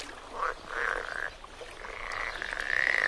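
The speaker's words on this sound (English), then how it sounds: "soon they added their own croaks and whistles" Frogs croak and whistle in a continuous chorus of overlapping calls, some rising trills standing out near and clear over a soft ambient bed.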